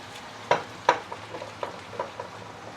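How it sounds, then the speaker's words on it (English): Shaoxing wine poured into a hot pot of ribs for a bittermelon stew gives a quiet sizzle with a few sharp spattering crackles close by, and no one speaks. "Let's give it some Shaoxing wine."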